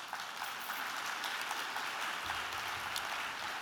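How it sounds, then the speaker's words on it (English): Sustained audience applause at a network meeting, a steady broad wash of many hands clapping with no pauses, fairly loud and even throughout, with no voices on top. "So I want to thank Harris County, the City of Houston. Would you give them a round of applause?"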